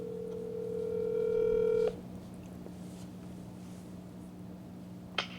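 A telephone dial tone sounds steadily for a couple of seconds as a call is placed, then stops abruptly. A low hum and faint clicks follow, with a soft tap near the end.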